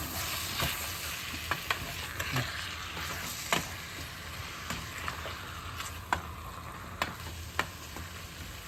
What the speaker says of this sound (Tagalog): Haluin po natin yung maigi para ma-distribute maigi yung ating ingredients